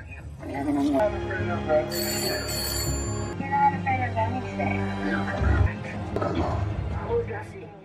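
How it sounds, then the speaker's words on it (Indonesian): A telephone rings repeatedly in a dramatic film scene, its bright electronic bell tones pulsing over music and background sound at moderate loudness. "Dom menerima panggilan telepon dari Dante yang mengancam untuk membuatnya menderita le"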